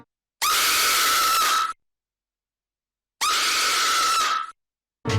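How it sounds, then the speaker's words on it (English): Two loud, sustained screams from a Halloween stock sound effect, each lasting about a second and a half, separated by silence. "a loud Halloween stock sound effect of a scream"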